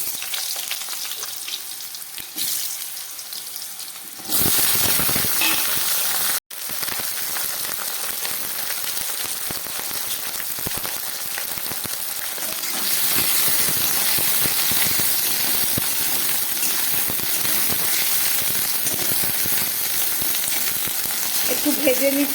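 Cut potatoes and eggplant fry in hot oil with black cumin seeds, giving a steady crackling sizzle that jumps louder partway through and then holds, with a brief dropout and light stirring.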